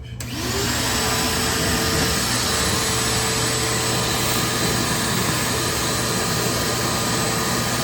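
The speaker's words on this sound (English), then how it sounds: "First I'm gonna hit it with the shop vac, then I'm gonna use the brush." Shop vac cleaning the aluminum cooling coil of a restaurant cold bar, a loud steady roaring whine that starts abruptly and runs unbroken at close range.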